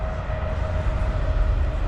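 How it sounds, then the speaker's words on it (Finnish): A train carrying coal cars passes beside a river rapids fishing spot, a steady loud rumble with a sustained tonal whine running throughout, no voices. "Junaa!"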